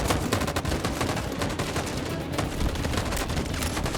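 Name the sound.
gunshots in the video game Detroit: Become Human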